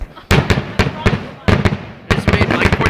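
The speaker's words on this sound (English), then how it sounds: "Here's fireworks." Fireworks explode over Santa Monica on the Fourth of July: a run of loud, booming bursts with crackling tails. They come in quick irregular clusters and fill the whole clip.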